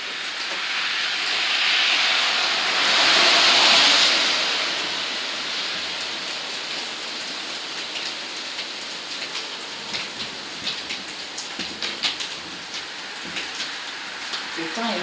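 Rain falls outside a country house, a steady patter and hiss of drops with a brief swell of heavier noise early on, then scattered sharp ticks of drips.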